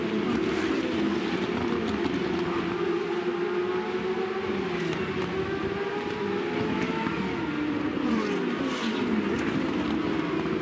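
GP2 race cars scream through Eau Rouge at Spa-Francorchamps during practice, high engine notes rising and falling as they pass against a constant loud wash of track noise.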